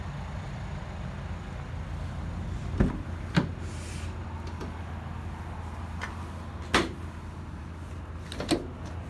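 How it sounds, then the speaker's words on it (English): Rear doors of a 2021 Toyota Proace City van swing open, giving a few sharp latch clicks and clunks spread across several seconds over a low background hum. "Those rear doors open nice and wide."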